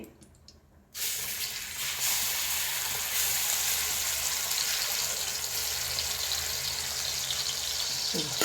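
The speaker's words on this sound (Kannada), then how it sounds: "ಜಿಂಜರ್ ಗಾರ್ಲಿಕ್ ಕೊತ್ತಂಬರಿ ಸೊಪ್ಪು ಪೇಸ್ಟ್ ಹಾಕ್ತಾ ಇದ್ದೇನೆ" Ginger, garlic and coriander paste hitting hot ghee and oil bursts into a loud, steady hiss after a second of quiet, then keeps sizzling close and even until a light clatter at the end.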